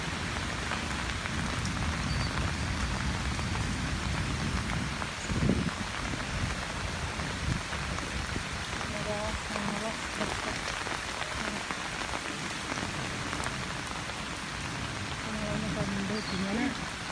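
Steady rain falls and patters on surfaces throughout, a dense, even wash of sound close by with a brief louder thump partway through.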